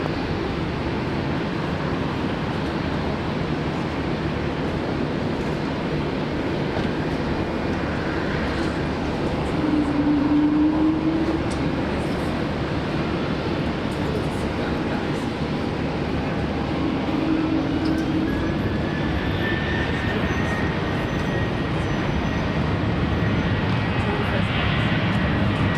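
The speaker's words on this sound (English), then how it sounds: "Qantas 501, runway 19 left, clear to takeoff." A Qantas airliner taking off from runway 19 left at Brisbane Airport, a steady, sustained jet engine roar heard from a distance, with faint radio chatter underneath.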